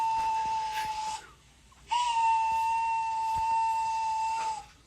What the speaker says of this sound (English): Gordon went on whistling and whistling and whistling.